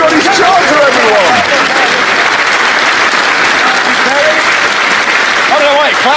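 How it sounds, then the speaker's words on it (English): A studio audience breaks into loud, sustained applause and cheering, a dense roar of clapping that carries on for the whole stretch with voices calling out over it. "I don't know why you're clapping."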